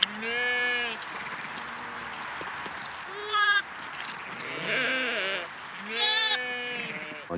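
Sheep and newborn lambs on a small farm bleating, several loud wavering calls from close by at irregular intervals, some high-pitched and some deeper, over quiet barn noise.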